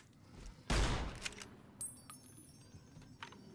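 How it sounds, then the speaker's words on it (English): A cowboy repeater lever-action rifle fires once in Fallout: New Vegas, a loud sharp report followed by metallic lever-cycling clicks and clinks as it is worked. "We have 2 cowboy repeaters that only does 25 versus 30. How does this feel to fire?"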